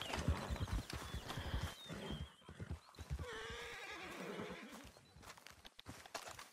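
A horse whinnies loudly while hooves clop nearby in the video game Red Dead Redemption 2 free roam, with some faint voices mixed in.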